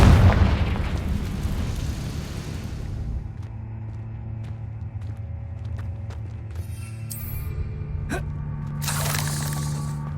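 A Confringo spell blast in Hogwarts Legacy goes off loud and close at the start with a broad booming burst, then fades into a lingering rumble and game ambience, with a few crackling flares later on.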